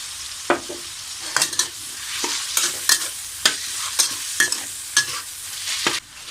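Pork stir-fried in a pan, seasoned with oyster sauce, soy sauce and a little sweet soy sauce, with a steady sizzle and repeated sharp scrapes and clacks of a spatula striking the pan at an irregular rhythm.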